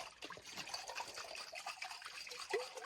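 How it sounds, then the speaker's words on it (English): Water is poured into a cooking pot over sauce and ingredients, making a faint, soft trickling and splashing stream that runs steadily for a few seconds, with no talking. "I'll just add enough water to cover everything."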